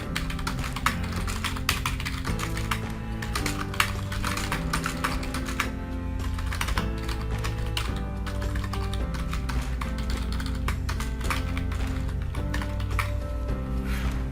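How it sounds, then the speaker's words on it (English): Typing on a computer keyboard during a website editor tutorial, rapid clustered keystrokes in bursts with short pauses, close and clear over a soft background tone, no talk. "then just type whatever you'd like"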